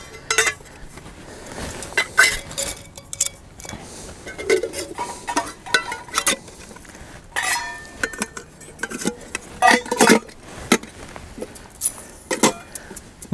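Coffee cups and metal accessories being packed into a Kelly Kettle Trekker, irregular clinks, rattles and jangling knocks in bursts, close and fairly loud, with no talk.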